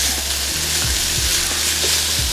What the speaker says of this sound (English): So I'm gonna go ahead on and crisp this bacon on up